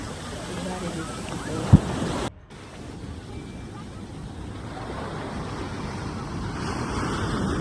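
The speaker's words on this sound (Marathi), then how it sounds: "लाट आली मोठी लाट आली" Waves roll and break onto Juhu Chowpatty beach at night, a steady rushing wash with a brief sharp knock early on, wind buffeting the microphone throughout.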